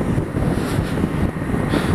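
Loud, steady wind roar buffets the microphone while riding a BMW G 310 GS motorcycle with almost no wind protection, a dense continuous rush with a low rumble beneath, with no talking.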